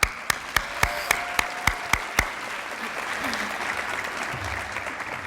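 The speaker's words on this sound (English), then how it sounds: "Let's give each of those students another round of applause." An audience at a school district teachers' awards ceremony claps: a few sharp, regular claps ring out first, then a broad, steady wash of applause fills the room.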